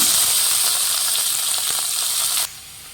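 Greens and lentils fried in oil with golden garlic, giving a bright, dense sizzle that holds steady, then drops sharply to a quieter hiss near the end.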